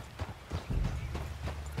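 Horse hooves clip-clopping at a brisk pace in Red Dead Redemption 2, a steady rhythmic run of thuds close by with a faint low voice in the background.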